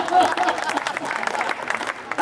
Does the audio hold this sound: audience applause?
yes